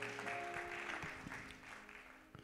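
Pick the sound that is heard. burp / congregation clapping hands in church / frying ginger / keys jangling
congregation clapping hands in church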